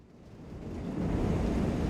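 A CL-415 water bomber skims a lake to scoop water in Microsoft Flight Simulator, a broad rushing roar of water and engine that swells louder after the first second and holds steady.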